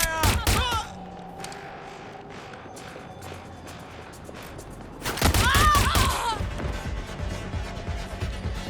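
Video game gunfire in Watch Dogs: Legion, sharp bursts of rapid shots opening and again mid-way, loud and close, with game noise and voices in between.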